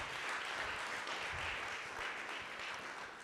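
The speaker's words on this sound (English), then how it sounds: "give Corey another round of applause" An audience applauds with dense, steady clapping that holds for a few seconds before easing slightly, heard from within the room.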